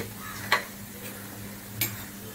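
Lid lifted off a cooking pot while radish greens cook, two short metallic clinks over a low steady hum, close and fairly soft.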